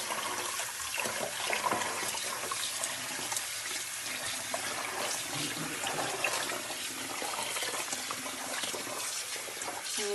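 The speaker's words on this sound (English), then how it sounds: "And you're going to rinse out your shirt." Running water rinses a bleached reverse tie-dye shirt, a steady hissing tap stream splashing over wet fabric, constant and fairly close with no talk.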